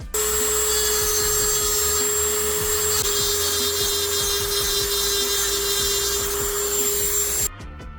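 A small carbide bit grinds a Gila piston in a steady, loud, high-pitched whine of metal removal that runs unbroken for most of the clip and cuts off just before the end.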